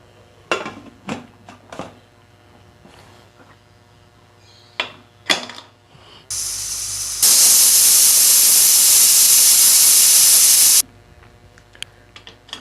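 A pressure cooker of mutton curry lets out a loud, sustained steam whistle and hiss lasting several seconds, preceded by a few sharp kitchen clatters and a brief burst of venting.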